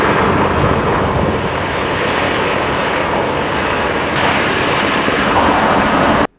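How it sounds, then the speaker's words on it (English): An AI-generated airplane sound effect delivers a loud, steady roaring drone of aircraft engines with a dense rumbling texture. It holds nearly constant for about six seconds before stopping abruptly, with no voices. "Airplane."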